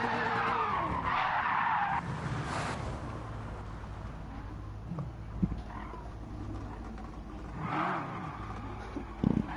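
Tyres skid and squeal as a BMW M3 drifts in the racing game Gran Turismo 7, the screeching loud and continuous with engine roar beneath, swelling again near the end.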